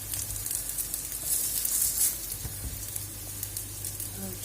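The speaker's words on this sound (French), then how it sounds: "Là, je fais cuire les galettes." Gluten-free galettes frying in a pan, a steady close sizzle with soft crackles and brief spatters, continuous throughout with no talking.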